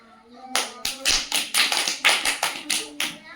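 Children in a classroom sound game clap their hands about ten times in a quick, even rhythm. The claps are sharp and close, with a faint voice at the start.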